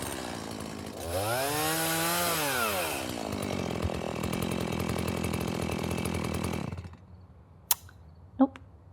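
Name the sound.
chainsaw running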